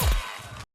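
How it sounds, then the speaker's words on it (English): Vanquish sound effect from Plants vs. Zombies: Garden Warfare, a single short, punchy hit with a deep thump followed by a bright crackling tail, alone and fairly quiet. "And that Vanquish noise!"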